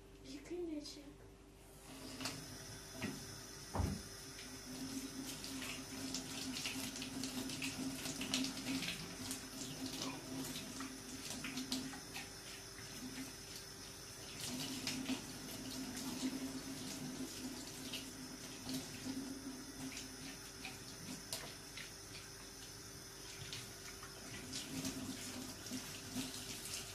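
A tap runs steadily for washing, a long continuous hiss of water into a sink, faint and fairly distant, with people talking over it at times.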